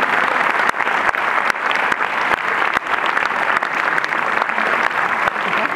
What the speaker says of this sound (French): Merci d'accueillir Mona Jaber, de l'applaudir.